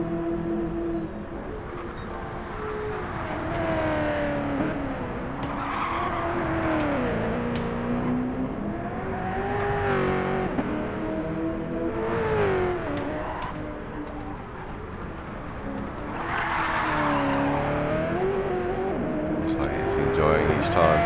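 A V8 Supercar slides sideways in Gran Turismo 7, its engine revving and wavering up and down through repeated surges. Faint tyre scrub sits under the engine, with commentary voices talking over it throughout.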